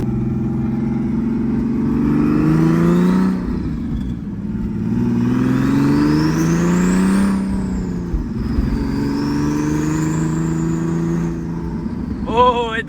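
A turbocharged BMW E36 drives and accelerates, its engine droning steadily through rising and falling revs across the run. Speech is present over the engine, and a brief sharp burst comes near the end.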